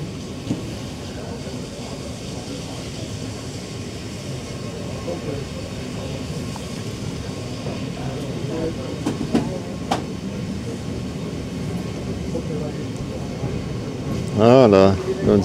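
A Swiss IC passenger train from Singen running past near Etzwilen, a continuous rumbling roar with some rail clatter, fairly loud, while someone talks over it; a squealing whine rises briefly near the end.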